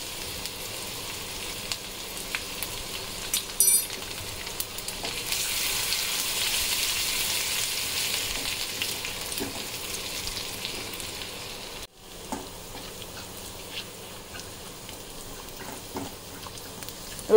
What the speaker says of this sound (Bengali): এবার আমি দিচ্ছি ফোড়ন, একটা শুকনো লঙ্কা দিয়ে দিচ্ছি, রসুন কুচি, আর দিয়ে দিচ্ছি একটুখানি কালো জিরে আর রাঁধুনি ফোড়ন।